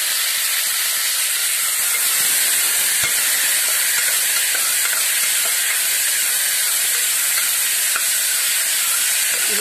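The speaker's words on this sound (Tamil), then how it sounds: "தக்காளியும் நல்லா தோல் பிரிஞ்சு வர அளவுக்கு நல்லா வதக்கணும்." Steady, continuous sizzling hiss of onions and tomatoes sautéing in a pan, loud and unbroken for the whole stretch, with a few faint clinks.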